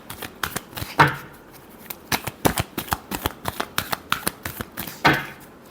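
A deck of tarot cards is shuffled by hand in a rapid run of crisp riffling slaps and flutters, close and fairly loud, with two heavier bursts standing out, and no voice over it.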